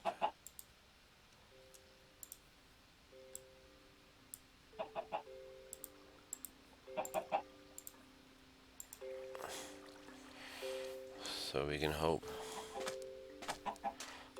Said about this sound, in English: So there's some lots and lots of chickens.